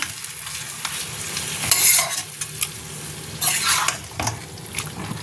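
Spice paste for mutton and potatoes is stirred and fried in a pan, making a continuous sizzle with scraping bursts of the spoon at intervals and light clanks of metal, close and fairly loud.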